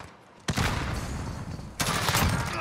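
M4 rifle fire in a video game comes in two loud bursts of rapid shots, the second starting after a short pause, with faint background sound between.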